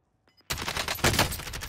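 After a near-silent start, gunfire erupts in Call of Duty: Warzone as a loud, sustained burst of rapid automatic shots close by.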